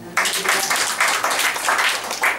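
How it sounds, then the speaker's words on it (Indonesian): An audience breaks into a brief, dense burst of applause that starts abruptly and holds steady in waves for a couple of seconds. "Mau tepuk tangan buat itu."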